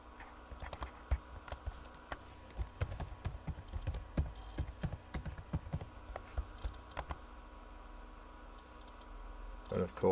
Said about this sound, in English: put in my password